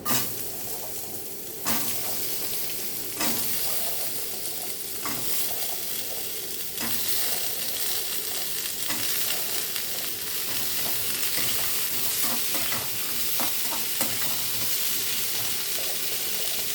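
Chopped white potatoes sizzle steadily in a pan for a simple potato curry, with scraping stir strokes and occasional clatter of a spatula throughout; close and continuous, no talking.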